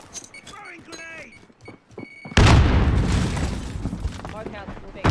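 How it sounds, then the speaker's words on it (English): A grenade in a video game bursts with a sudden loud boom that rolls off into a rumbling, noisy tail, after a stretch of quieter talk and clicks. "Throwing grenade!"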